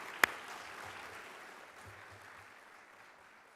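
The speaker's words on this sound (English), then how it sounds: "Round of applause for Senator Merkley" An audience at a summit applauds, a sharp single clap up front giving way to steady, moderately distant clapping that slowly fades out.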